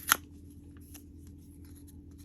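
Scissors give one crisp close snip as they trim the bottom of a paper graduation-cap pop-up card, followed by a couple of faint lighter clicks in a quiet room.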